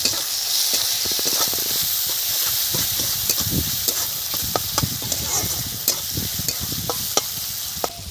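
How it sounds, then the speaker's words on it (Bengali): Onions fry in hot oil with black cumin (nigella) seeds, giving a steady sizzle and hiss broken by frequent sharp clicks of stirring against the pan, close up with no talking. "একটু তেল দিলাম, কালো জিরে ফোড়ন দিলাম, পেঁয়াজ দিয়ে দেব।"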